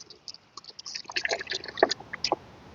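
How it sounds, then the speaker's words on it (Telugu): Water running and dripping as it is let into a turtle enclosure, a soft broken trickle with small splashy drips, fairly close and moderately quiet, with no talking. "ఇదిగోండి నీళ్లు విప్పాను"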